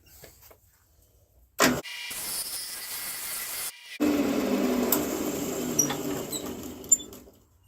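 A wood lathe spins a segmented woodturning while a tool cleans up the piece: a sudden harsh burst of scraping, a brief pause, then a steady close whirring grind that runs to the end.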